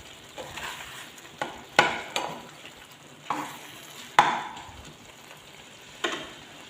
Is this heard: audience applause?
no